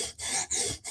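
A knife blade is drawn across a stone on a TSProf Kadet sharpener, three rasping strokes in quick succession with short gaps between, close and fairly quiet.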